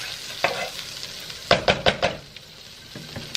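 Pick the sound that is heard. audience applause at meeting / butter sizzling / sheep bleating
butter sizzling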